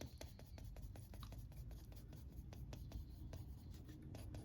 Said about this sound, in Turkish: Şimdi çaprazını çiziyorum.